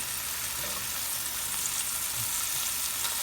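Garlic frying in a pan with caramelized onions, a steady bright sizzle and crackle throughout, close and unbroken, with no talking.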